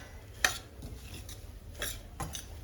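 Quiet scraping and a few sharp clinks of a spoon stirring something in a pan, soft and intermittent against a faint hiss.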